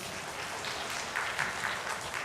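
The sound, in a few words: audience applause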